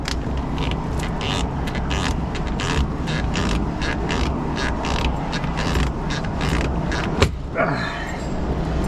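Steering wheel on a Ford Escape being worked loose by hand without a puller, producing a steady series of creaking, grinding pulses that ends in a sharp knock as it comes free.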